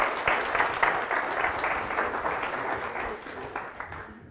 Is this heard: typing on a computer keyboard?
no